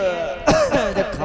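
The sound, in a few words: cough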